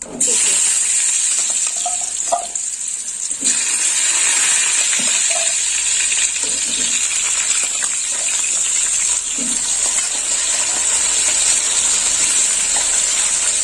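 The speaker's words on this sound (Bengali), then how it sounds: "ফোড়নটা ভাজা হয়ে গেছে এবার পেঁপে দিয়ে দেবো দিয়ে দিলাম পেঁপে" Papaya pieces hiss and sizzle as they fry in hot oil with tempering spices for a papaya and chana dal curry, a steady close bright frying sound lasting throughout with occasional stirring clatter.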